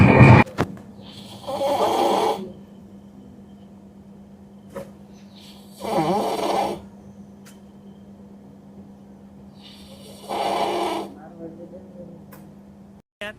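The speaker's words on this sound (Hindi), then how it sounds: "बाजू में ऐसे लोग सो रहे थे ना जो इतने बड़े बड़े खर्राटे ले रहे थे ना" Loud snoring from people sleeping nearby, three long rasping snores spaced several seconds apart over a low steady hum.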